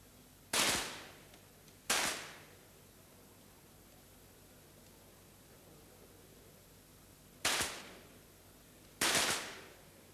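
Four sharp free pistol shots ring out at the Barcelona 1992 Olympics, each a loud crack with a quick decaying tail, two early then two late, separated by quiet range ambience.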